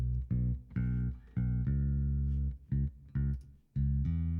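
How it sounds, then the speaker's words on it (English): A compressed bass guitar plays a short, punchy line of separate notes, even in level and tightly controlled, with no other sounds. "you can hear we've got a much more natural, punchy sound to our bass"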